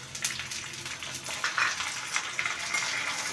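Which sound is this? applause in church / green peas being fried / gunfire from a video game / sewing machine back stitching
green peas being fried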